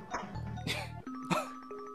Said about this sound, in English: Uh-oh, the doorbell.